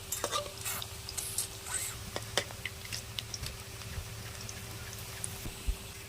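Coriander leaf chops fry in oil, a soft, fairly quiet sizzle with scattered crackles and a few clicks of a utensil, and no voices.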